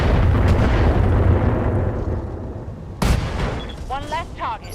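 A heavy weapon blast from a mech in the video game RogueTech, a loud opening boom that rumbles away, then a second sharp burst followed by chirping electronic effects, with talk in the background.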